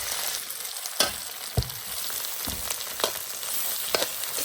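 Sliced lily bulb, geshanxiao root and lean pork stir-fried in a wok give a loud, continuous sizzle broken by sharp scrapes and knocks of the spatula every second or so.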